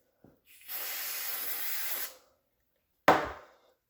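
Stain remover is sprayed onto stained polyester clothing in one long hissing burst of about a second and a half, followed by a short sharp spritz, both close and loud with no talking.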